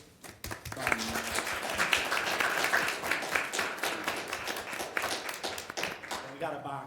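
Applause breaks out during a city council meeting as a service plaque is presented, with scattered claps mixed with nearby talking.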